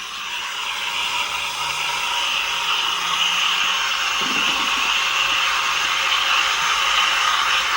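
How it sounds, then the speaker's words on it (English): A Gaggia Classic Pro steam wand heats and rolls milk for latte art, a steady, close breathy hiss with a soft roar beneath it that holds evenly throughout. "that was like 4 bursts of aeration, and then that's it, just heating and rolling."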